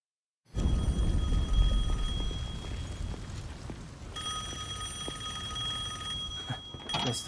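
A telephone rings repeatedly in Devil May Cry 5, loud and steady over a rumbling game backdrop, with a high bell tone that continues for several seconds.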